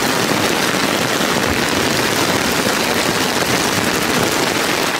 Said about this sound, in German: Der Regen muss weg, das ist richtiger Starkregen.